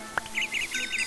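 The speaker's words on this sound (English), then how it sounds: "Bird." A bird in the Minecraft video game chirps in a quick run of four or five short, bright tweets after a brief click, loud and close, with no voices.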